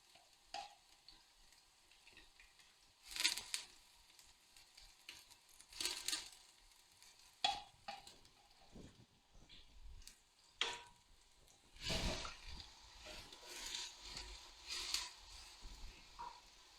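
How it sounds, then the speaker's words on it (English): Onion crackles and sizzles softly in hot oil in a pot, with intermittent louder bursts of stirring and scraping as it is moved around. "You can hear the onion sizzling away."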